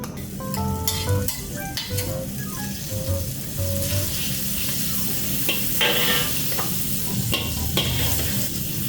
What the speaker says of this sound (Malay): Kita slow api dia sampai panas tu cair margarin kita ni.